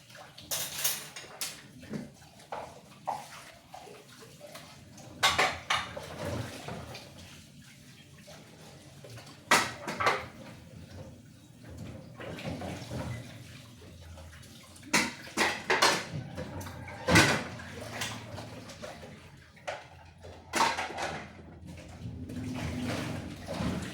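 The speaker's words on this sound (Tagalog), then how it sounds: "Naghuhugas ng pinggan." Dishes being washed at home, with scattered clinks and clatters of plates and cutlery over running water, close by and irregular, with no talk.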